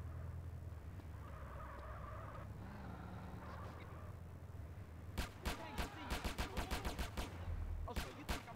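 Gunfire in the video game GTA San Andreas, a rapid burst of sharp, loud game gunshots in quick succession following quieter game ambience, with a couple more shots at the end.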